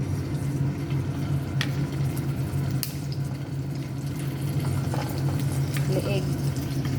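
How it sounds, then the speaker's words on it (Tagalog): Chicken pieces frying in a pan for adobo, a steady sizzle and crackle with occasional stirring clatter, while a person talks over it. "Piniprito ko siya muna."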